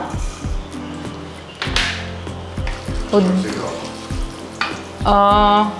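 Cashews and urad dal fry in hot oil for bisi bele bath, giving a continuous close sizzle broken by repeated scraping strokes of a stirring spoon, with a brief voice near the end as the crackle swells louder.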